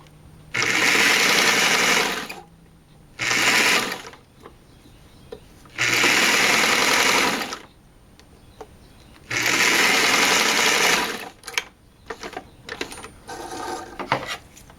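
A sewing machine stitching a seam on a simple tunic runs in four loud, sustained bursts of a few seconds each, separated by quiet pauses and small clicks, close up.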